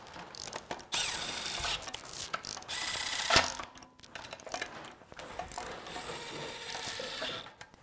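Ratchet wrench clicking rapidly in bursts as engine bolts come loose on a small-block or LS engine, with a sharp metallic clank near the middle and brief pauses between runs of ratcheting.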